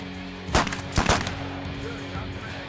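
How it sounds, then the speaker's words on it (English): Gunfire at an outdoor shooting range, two sharp loud shots about half a second apart followed by a rolling echo and a low steady hum of background noise. "I love the sound of gunfire in the morning."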